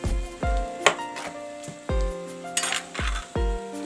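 A small spoon clinks repeatedly against a pan as turmeric powder goes into onion, ginger and garlic frying for a mutton curry, sharp metallic taps recurring every half second or so over a soft sizzle.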